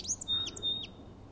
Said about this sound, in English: spectacular sounding song sparrow